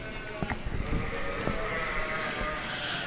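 Hampshire ewes in a breeding sheep show ring at a youth sheep expo, with a few short bleats and scattered knocks of hooves against the low murmur of an indoor arena crowd.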